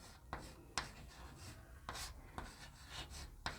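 Chalk writes a question on a classroom board in short scratchy strokes and taps at an irregular pace, faint and close, with no talk.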